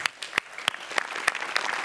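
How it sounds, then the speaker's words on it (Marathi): A studio audience at a Marathi comedy show claps, with sharp distinct hand claps at first that thicken into steadier applause. "आज त्यांच्यासाठी एकदा जोरदार टाळ्या"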